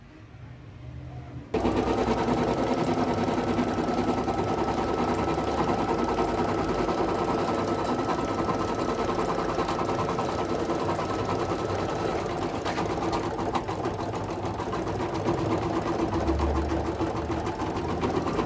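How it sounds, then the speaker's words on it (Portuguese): A sewing machine stitches a quilted vaccine card cover, starting after a brief quiet moment and then running in a fast, even, continuous rattle, loud and close, with no talking. "E aí nós vamos pra máquina de costura"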